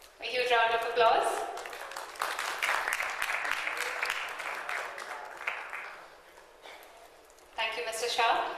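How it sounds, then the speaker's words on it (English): An award ceremony audience breaks into applause, sustained dense clapping filling most of the stretch before easing off, while an announcer speaks over the start and end. "For Dr. Gopal Naik, a huge round of applause."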